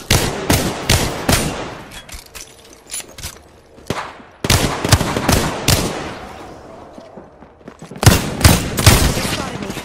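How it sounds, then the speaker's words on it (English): Incoming gunfire in Apex Legends crackles in rapid bursts of loud automatic shots, broken by short pauses, then resuming in a final close volley. "They spotted me. I'm taking shots."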